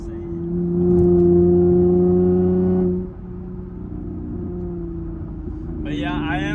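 A Camaro with a very loud modified exhaust pulls hard on a drive, its deep engine roar climbing in pitch, then dropping back to a lower rumble as it eases off.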